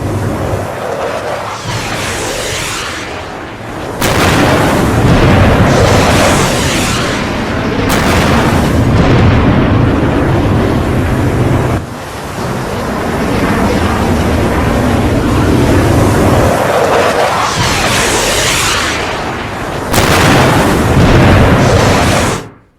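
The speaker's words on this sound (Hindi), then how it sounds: "ये है ट्रंप का युद्धपोत अब्राहम लिंकन, इस पर मिसाइल से हमला हुआ है आसमान में।" Missile strikes on the warship Abraham Lincoln, AI-generated, bring loud, deep booming explosions in several long rumbling bursts, separated by brief sharp cuts and drops, with no voices.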